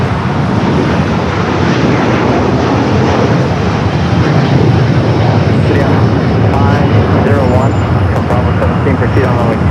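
A Boeing 787 departing from runway 25 left at Los Angeles airport, a loud sustained jet engine roar with a broad rumble and a faint voice in the background.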